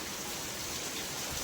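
Heavy rain falling in a dense, constant wash of noise with no pauses and no voices.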